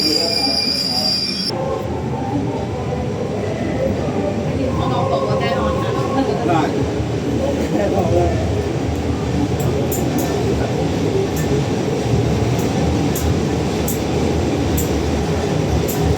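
A State Railway of Thailand train, heard from aboard a Queensland-type carriage, rumbles along steadily with loud wheel noise and faint squeals, filling the whole stretch with continuous rolling sound.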